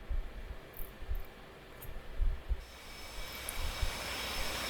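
In a Supercarrier flight game, an F/A-18C's jet engine is pushed to full throttle on the carrier catapult, a dense, steady roar that swells and stays loud throughout.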